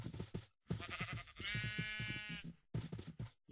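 Several Minecraft sheep bleats in quick succession, one long quavering bleat in the middle flanked by shorter ones, close and distinct with brief gaps between calls.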